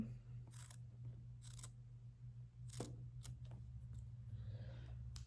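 Scissors snip through quilt binding fabric at a ruler, several crisp close cuts spaced across a quiet room with a steady low hum beneath.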